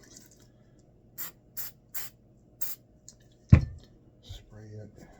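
Four short hissing spray bursts of cleaner hit pistol parts in a steady rhythm, followed by a sharp thud and low rustling as someone briefly talks.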